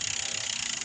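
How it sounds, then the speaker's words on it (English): A bicycle gear shifter clicks down through the gears, giving a quick run of crisp, close mechanical ratchet clicks in a short burst. "Then I'll run down through the gears. One click, but I'm losing 2 gears."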